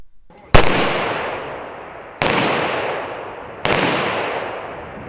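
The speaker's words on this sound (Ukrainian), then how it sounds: "У пам'ять про полеглого захисника пролунав військовий салют." Three loud rifle volleys of a military funeral salute ring out at even intervals, each sharp crack followed by a long echoing decay outdoors.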